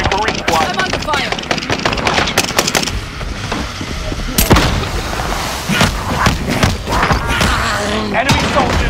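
Rapid bursts of automatic gunfire and heavy thuds fill a zombies warzone video game battle, loud and close, with scattered single shots and impacts continuing throughout alongside game voice callouts.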